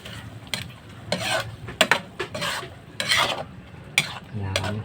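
Pork menudo ingredients being stirred in a pan with scraping strokes and faint sizzling, while a utensil clinks against the metal now and then, loud and close.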